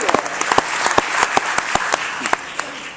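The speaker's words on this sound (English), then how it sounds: "If you are fired up and want to bring it on, give me some cheers and claps and screams" A conference audience clapping, cheering and screaming, a dense burst of applause with sharp individual claps punctuating a continuous crowd roar.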